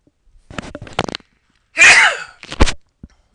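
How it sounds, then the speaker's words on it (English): A single loud, breathy sneeze bursts out, sitting between quiet, scattered rustles and small handling noises close to the mic. "I've got the sneezes tonight"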